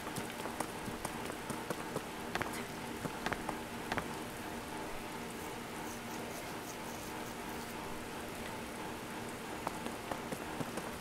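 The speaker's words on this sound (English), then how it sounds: "I guess I can't do this shit while it's raining." Steady rain patters densely on a surface in The Legend of Zelda: Tears of the Kingdom, a continuous hiss with scattered louder droplet taps throughout.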